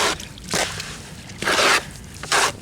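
Wet mortar is mixed with water by hand for a foundation repair, with several short bursts of squishing and scraping that stand out between quieter moments, close up and with no talking.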